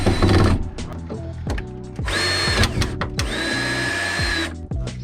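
Power drill driving screws out and back in during camper van build work, with short whirring bursts and ratcheting stops alongside clunks of wood and tools.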